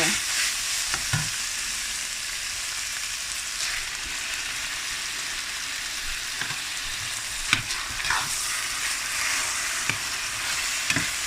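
Tomato sauce going into a sizzling pan of ground beef for a sandwich, a continuous strong frying hiss with periodic stirring scrapes and a few sharper utensil knocks, close and without talk.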